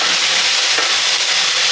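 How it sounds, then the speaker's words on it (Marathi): Egg chilli sautéing in a pan with Schezwan chutney and soy sauce, a loud steady sizzle that fills the clip without pause, close by and with no talking. "पुन्हा याला छान परतायचं"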